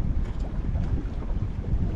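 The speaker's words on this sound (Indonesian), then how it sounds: "Pagi-pagi agak berangin nih." Morning wind at sea on a fishing boat buffets the microphone in loud, gusty low rumbles, steady throughout with no voices.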